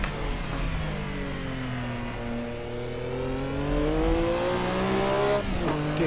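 A Porsche 962C race car engine in the Assetto Corsa racing game roars up and down through the revs on a Nordschleife hot lap, loud and continuous, with a sharp shift near the end.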